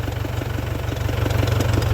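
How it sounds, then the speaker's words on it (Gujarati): A tractor's diesel engine idles with a steady low, rhythmic chugging pulse, fairly close and unchanging over a brief stretch. "ઓલી બાજુ હાલે છે બે ટ્રેક્ટર"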